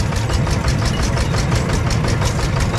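A Yanmar tractor engine drones continuously close by, loud and unbroken, with a faint pulsing rhythm as it revs slightly.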